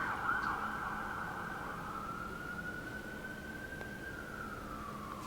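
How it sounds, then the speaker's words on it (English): An emergency vehicle siren passes outside, heard from indoors: a steady, wailing tone that slowly rises and falls, moderately loud and continuous throughout, with no talking. "Filming a video, it's never the same without sirens, without firefighters, without police"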